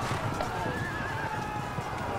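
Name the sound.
horse neighing in Field of Glory 2 video game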